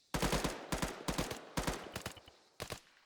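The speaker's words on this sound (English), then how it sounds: "can I have some suppressive fire?" Suppressive machine-gun fire in a military video game, several loud close bursts of rapid shots separated by short gaps, with no talk over it.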